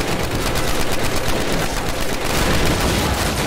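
Dense, continuous gunfire from weapons in the World War II shooter game Call of Duty: United Offensive, loud and sustained throughout with rapid overlapping shots and no talking.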